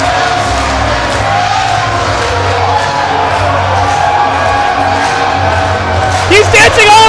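A packed wrestling arena crowd roars and cheers continuously during Rich Swann's dancing entrance at a big pay-per-view show, loud and sustained, with a commentator's voice heard over it.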